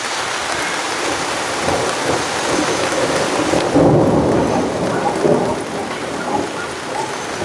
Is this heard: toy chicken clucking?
no